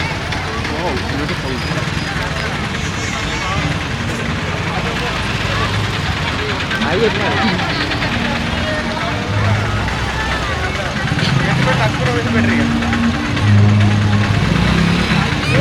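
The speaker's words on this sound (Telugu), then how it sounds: "traffic jam ఇట్లుంటుంది" Heavy traffic jammed at a crowded festival fair rumbles steadily, with engines idling and droning throughout while people talk over the noise.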